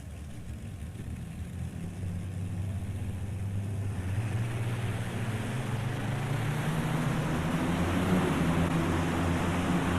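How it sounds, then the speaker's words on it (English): A pulling tractor powered by twin V12 Allison aircraft engines roars steadily and builds in loudness, a deep continuous engine drone with rising rumble at a farm machinery show. "The twin Allison aircraft engines,"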